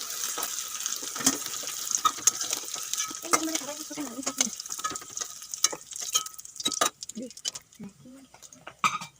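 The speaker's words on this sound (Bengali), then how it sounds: "এগুলো হালকা করে ভেজে নিয়েছি এখন তুলে নেবো" Eggs and potatoes frying lightly in hot oil in a home kitchen pan, a steady soft sizzle broken by clinks and scrapes of stirring, with a few voice-like sounds partly over it.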